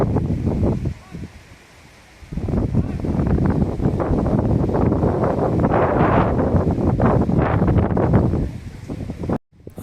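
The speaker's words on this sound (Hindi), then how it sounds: "बहुत तेज़ हवाएं चल रही हैं और उनकी आवाज़ आप सुन सकते हैं।" Strong wind gusts across the misty top point of the Kanheri Caves hills near Mumbai, a loud, rough roar that blusters steadily into the microphone, easing briefly before surging again.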